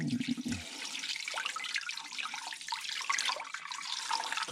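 Distilled water pouring steadily into a container in a home kitchen, a continuous splashing trickle lasting a few seconds, close by with no talking.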